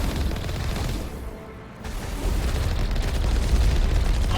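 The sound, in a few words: Mako vehicle being shot and exploding in video game Mass Effect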